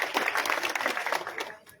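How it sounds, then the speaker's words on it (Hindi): Brief burst of lively clapping from a crowd at a welcome reception, dense and fairly close, tailing off in the last moments. "इनके लिए एक बार जोरदार तालियां।"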